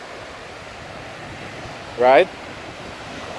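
Ocean surf and wind roar steadily at a beach beside a major highway and bridge, a constant broadband wash with buffeting microphone wind, briefly interrupted by a short spoken word near the middle.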